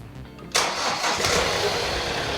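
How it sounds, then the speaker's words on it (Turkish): A car engine fitted with a supercapacitor cranks and catches abruptly, then settles straight into a steady, loud idle close by. "Marş bas bakayım."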